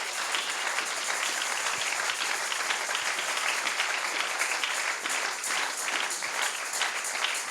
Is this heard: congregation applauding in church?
yes